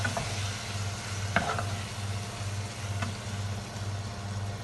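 Crab being stirred in a pan of seafood paella, with a few soft scraping clicks from the spoon over a steady low sizzle and a faint hum in the background.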